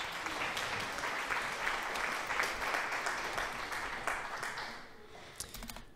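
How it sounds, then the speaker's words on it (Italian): Crowd applause sound effect played as a stream alert in a Farming Simulator 22 livestream: dense, steady clapping at moderate level for several seconds, thinning out at the end. "Applausi."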